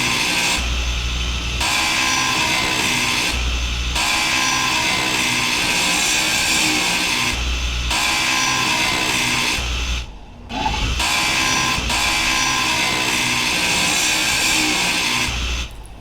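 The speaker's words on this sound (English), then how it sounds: "This grinder is still loud as fuck." Steady loud mechanical grinding whir of a handheld grinder tool in the video game Space Engineers, running continuously with a few brief cut-outs and one short near-silent gap, no talk over it.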